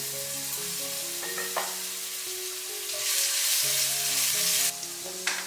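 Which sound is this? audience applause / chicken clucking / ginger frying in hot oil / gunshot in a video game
ginger frying in hot oil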